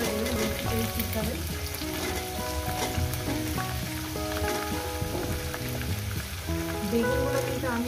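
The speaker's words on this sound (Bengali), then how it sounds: "এই সবজিটাকে মিনিমাম আমি 7-8 মিনিট ধরে সবজিটাকে আমি ফ্রাই করবো" Vegetables fry in a pan for a fish curry with a dense, continuous sizzle and occasional stirring, close and even in level, with no talking.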